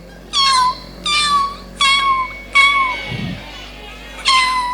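A voice imitates a kitten, giving five high, wavering meows in separate bursts, close and clear, during a humorous Islamic sermon in Subang.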